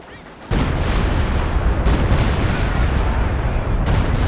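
Walking Stuka rocket artillery firing during a Company of Heroes 2 battle: a sudden loud, dense roaring barrage bursts in after a brief quiet moment and sustains as a continuous rumbling wash of launches and blasts.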